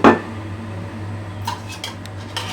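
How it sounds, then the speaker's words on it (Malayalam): A cooking pot is set down on a home stove with a sharp metallic clank, followed by a steady low hum and a few light clinks of utensils; no one speaks. "ഞാനിപ്പോൾ ഒരു പാത്രം വെച്ചിട്ടുണ്ട്."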